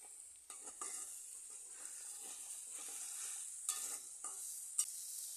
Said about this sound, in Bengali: এভাবে কিছুক্ষণ পর পর লাড়িয়ে চাড়িয়ে মশলা আমি খুব ভালো করে কষিয়ে নিয়েছি